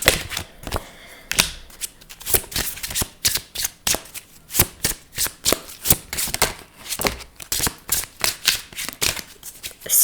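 A deck of message cards is shuffled close by, giving repeated riffling bursts in an uneven rhythm with short gaps between them and no voices.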